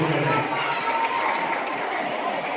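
Loud, continuous applause from a crowd at a Kannada literary gathering, a sustained wash of clapping that fills the room, with a voice faintly audible beneath it.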